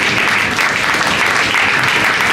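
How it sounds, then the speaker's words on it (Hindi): Loud, dense applause from a crowd at a devotional celebration honoring Shri Narayan Jayanti at an ashram, steady and continuous throughout with no voices over it. "सबसे जोरदार तालियां क्या होनी चाहिए"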